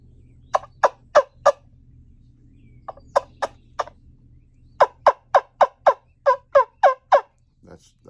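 A handmade wild turkey wing bone call, sucked with a kissing motion, imitates a turkey in a series of sharp, high clucking yelps, grouped in quick bursts of three to eight with pauses between, loud and close against a faint low hum.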